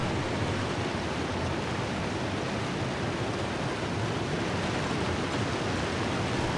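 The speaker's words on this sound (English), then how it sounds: "That's a very loud waterfall." A loud video-game waterfall roars as a steady, dense wash of rushing water, unbroken and close despite its distance in the game world, with no voices over it.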